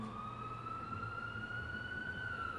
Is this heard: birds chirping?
no